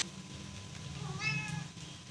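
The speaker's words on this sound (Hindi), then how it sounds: "ये हमारी बिल्ली हैं" A hungry cat meows once in a home kitchen where aloo methi is cooking, a short, fairly close call over a low steady hum of stovetop background noise.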